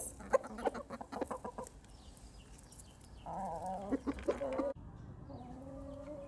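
Hens cluck and a rooster crows in a farmyard, several birds calling in bursts close by, with a quieter stretch of clucking near the end.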